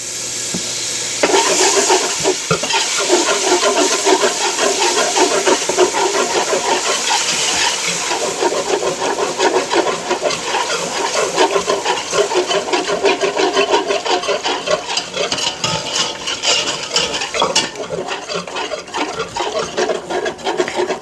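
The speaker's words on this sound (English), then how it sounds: "we're going to add 3 cups of whole milk while whisking" A whisk scrapes and swirls steadily through a bacon roux in a pan as whole milk is poured in, a continuous close rasping, sloshing sound lasting about twenty seconds with no talk.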